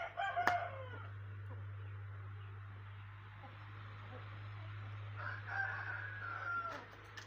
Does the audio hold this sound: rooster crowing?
yes